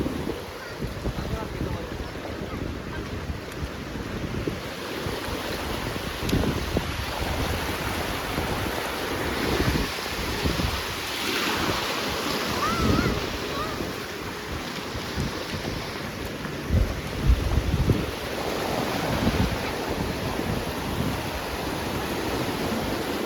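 Sea waves wash steadily onto a Konkan beach, a continuous broadband rush mixed with gusting wind noise on the microphone; faint voices may sit under it.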